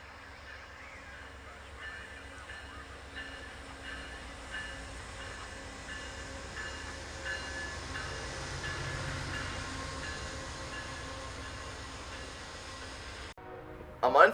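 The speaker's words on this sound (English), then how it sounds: "the last train that I got was Amtrak 43" An Amtrak passenger train rolls past on the Norfolk Southern Pittsburgh Line near Altoona, a steady distant rumble of wheels and engine held evenly throughout, ending with a brief louder burst.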